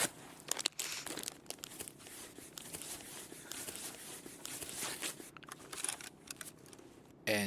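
Crinkling, tearing and rustling from a Grizzly medical kit being used to heal in Escape from Tarkov, with soft handling noises and occasional thuds, fairly quiet throughout.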